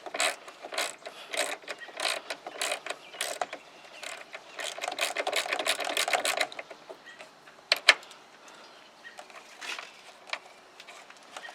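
A hand ratchet wrench clicks in quick rapid bursts while working on a Jeep Wrangler YJ, close and fairly loud, then pauses with a few scattered clicks and handling sounds.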